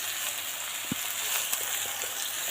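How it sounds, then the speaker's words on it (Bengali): Sponge gourd (dhundul) frying in a pan, giving a steady broadband sizzle with a few soft pops and clicks from stirring, close and moderately loud, no talking. "ধুন্দল ভাজি হচ্ছে।"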